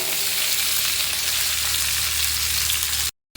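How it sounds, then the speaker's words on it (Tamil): Okra, or ladies finger, frying in hot oil for a tamarind curry, a loud steady sizzle throughout with no talk, cutting briefly to silence near the end. "இப்போ டைரெக்டாக நம்ம ஆயிலில் நல்லா ஃப்ரை பண்ணிக்கலாம்"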